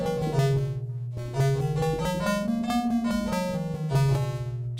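A seven-note diatonic scale tuned to 17-tone equal temperament, played as a steady run of bright, harmonically rich tones rising step by step and then descending, each note clearly separated and no one speaking.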